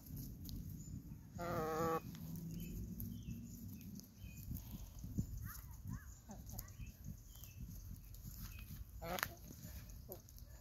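Hens cluck softly while feeding in early June, in low irregular calls against steady outdoor background noise, with a louder squawk near the start and another near the end.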